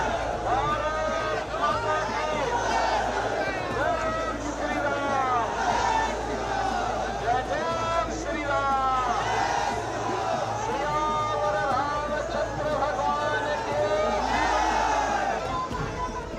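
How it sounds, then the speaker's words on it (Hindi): Large crowd at a Yogi road show on the streets of Darbhanga chanting slogans with saffron flags around, a dense, loud, rhythmic roar of massed voices that surges in repeated waves throughout. "भगवा झंडों और जय श्री राम के नारों से पूरा शहर गूंज उठा।"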